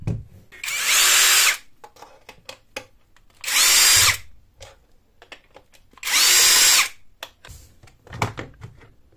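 A power drill spins out Phillips screws from a cordless jet fan, three loud whirring bursts of about a second each separated by gaps of small clicks and handling noises, close and with no talking.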